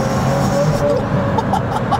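A Pagani Zonda F ClubSport with a 650 hp engine rumbles deep and loud at close range, restless and growling low beneath someone talking over it.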